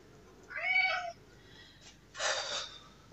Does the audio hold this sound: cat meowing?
yes